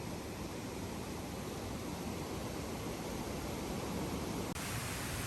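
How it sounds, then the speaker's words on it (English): Waterfall below a dam beside a trail near Falls Village, Connecticut, a steady broadband roar of falling water that stays loud and even throughout, with no voices. "found this awesome waterfall. Looks like it's fed from a dam up here."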